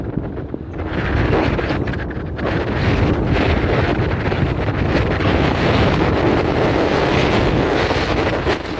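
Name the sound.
wind blowing at the beach at sunrise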